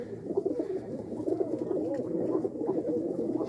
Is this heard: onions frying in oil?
no